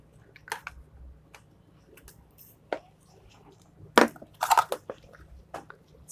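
Packed soil being loosened from tight plant roots during repotting: scattered soft crunching and crumbling bursts, close and fairly quiet, with a louder cluster of crushing sounds toward the end.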